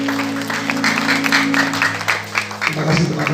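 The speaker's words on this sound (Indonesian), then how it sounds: "Tepuk tangan yang dahsyat buat Tuhan kita." Applause at a Christmas 2022 church celebration, a loud crowd of hands clapping over a sustained musical drone that shifts pitch near the end.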